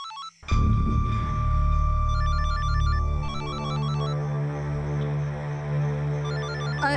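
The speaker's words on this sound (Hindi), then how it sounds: "किसका फोन है?" A phone ringtone plays a bright repeating electronic melody over a low droning hum, continuous and fairly loud.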